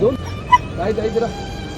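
An injured dog hurt in a road accident whimpers and yips in short, high cries close by, mixed in with people talking nearby.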